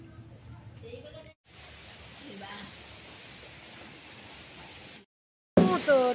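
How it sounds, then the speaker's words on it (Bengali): Heavy rain pours down steadily in a village setting, a dense, even hiss that fills most of the stretch, broken by a brief gap, before a loud voice cuts in at the very end. "কিরকম ঝমঝমিয়ে বৃষ্টি হচ্ছে দেখো একবার"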